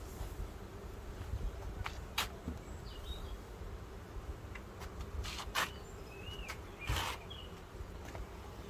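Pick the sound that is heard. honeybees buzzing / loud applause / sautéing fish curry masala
honeybees buzzing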